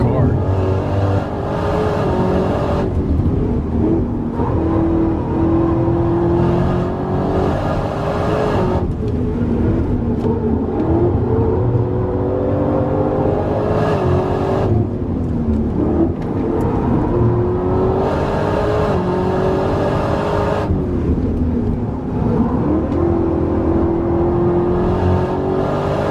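A Chevrolet Camaro ZL1 1LE with a ten-speed gearbox, a car of about 4,000 pounds, accelerates hard on the Nürburgring. Its loud engine note climbs and drops again and again through gear changes.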